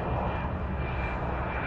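An airplane flies low over Itami Sky Park beside Osaka Itami Airport, a loud continuous engine roar filling the whole stretch with no talking.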